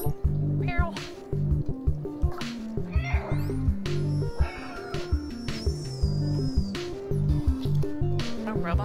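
Cat meows from the video game Stray, several short and drawn-out meows over an in-game music bed with electronic tones and ambient effects, fairly close and clear, with no talk.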